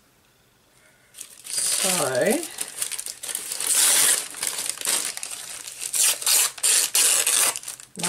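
Brown paper is torn and crumpled by hand for a collage: a continuous, close crackling rustle with a few sharp rips, starting after a quiet second and running to the end, with a brief spoken word.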